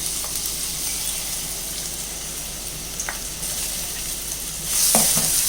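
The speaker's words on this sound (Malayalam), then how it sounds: "ഇതെല്ലാം കൂടെ നമുക്കൊന്ന് വഴറ്റിയെടുക്കണം." Small pieces of ripe plantain are sautéed in a hot pan and give off a continuous close sizzle. Scraping stirring strokes join in, and the frying grows louder and busier near the end.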